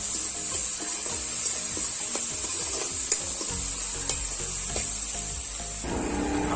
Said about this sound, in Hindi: अब इसे हम 5 मिनट तक अच्छे से भून लेंगे।